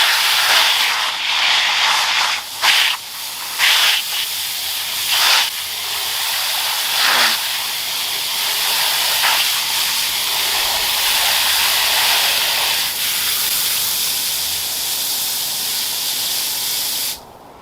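A garden hose sprays water onto a fire ant mound in a strong steady hiss, briefly cut off and restarted several times early before running continuously and stopping at the end.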